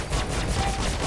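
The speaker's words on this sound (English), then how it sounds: "let's launch a rattler at him" Rattler missile launching in Star Citizen, a dense, loud rushing roar with rapid rattling pulses throughout, continuous and close.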